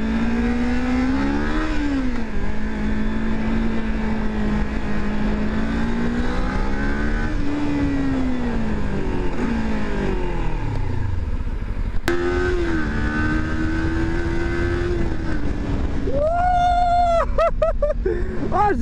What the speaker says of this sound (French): Je veux une Ninja 400.